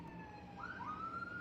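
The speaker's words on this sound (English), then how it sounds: "Sorry, there's a siren." Siren passing outside, faint and distant, with a single rising electronic wail that steps up in pitch partway through and then holds over low background hum.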